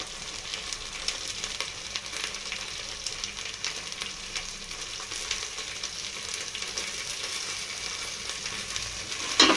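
Green chillies and mint, added after ginger paste, frying in a pan for pulao and veg curry, giving a steady, close sizzle that holds evenly throughout, with no voices.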